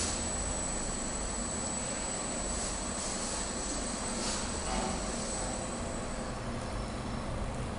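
A low, steady mechanical hum of an elevator motor running at Ploshchad Gagarina station, faint and unchanging throughout, with no voices.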